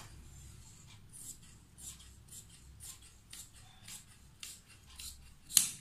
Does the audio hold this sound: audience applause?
no